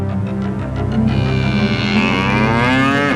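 An enraged bull in a Nonte Fonte cartoon lets out a long, loud, deep moo that rises and wavers, close and alone.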